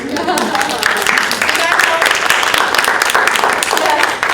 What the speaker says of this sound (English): Can we clap for you?